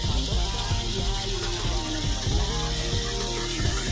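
Water flows steadily through a flooded village lane in Barangay Tuba, a continuous close rushing and gurgling with no break.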